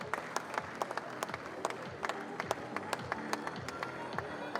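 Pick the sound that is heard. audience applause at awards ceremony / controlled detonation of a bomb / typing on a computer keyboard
audience applause at awards ceremony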